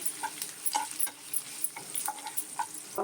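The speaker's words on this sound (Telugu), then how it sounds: "జీలకర్ర ఎండుమిర్చి ఆవాలన్నీ తీసుకున్నాం కదండి, తాలింపులన్నీ వేస్తున్నాను" Cumin seeds, dried red chillies and mustard seeds sizzle in hot oil while being tempered for a tamarind leaf curry, with a steady crackling hiss and soft stirring scrapes throughout.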